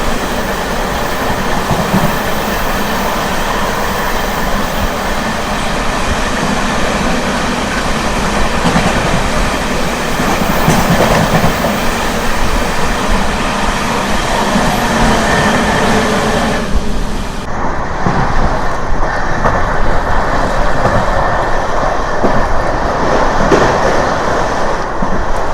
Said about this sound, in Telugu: ఇప్పుడు మనం వచ్చేసి రన్నింగ్ ఓవర్టేక్ చేస్తున్నాము గూడ్స్ని.